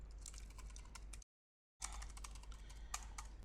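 Rapid, close clicking of typing on a computer keyboard during Python coding, a steady patter of keystrokes that stops briefly midway and then resumes.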